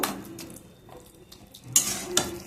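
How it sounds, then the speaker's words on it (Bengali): Kochu shak (taro leaves) with ginger paste being stir-fried in a pan with a little oil, quiet scraping and stirring clinks with a couple of sharper utensil knocks near the end, no talk. "এবার এটাকে আমি আরেকটু কষাবো"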